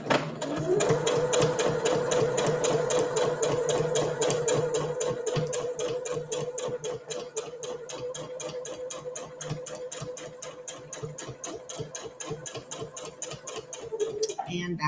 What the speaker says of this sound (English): we're just going to sew all the way down our side seams